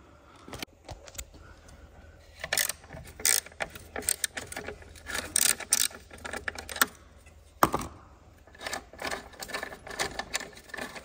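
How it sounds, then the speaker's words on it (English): A ratchet undoes the 10mm battery clamp bolt on a Mini One R56, producing close, irregular runs of rapid clicking and metallic ticking interspersed with small knocks and handling noise. "And now undo this 10mm, either with a 10mm or with a crosshead screwdriver"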